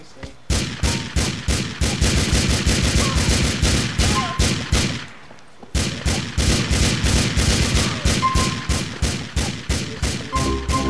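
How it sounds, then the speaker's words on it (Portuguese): Rapid bursts of gunfire from a shooter in GTA IV, loud and close, firing in dense volleys for several seconds, a brief lull, then another long sustained barrage. "tinha um maluco atirando em mim já"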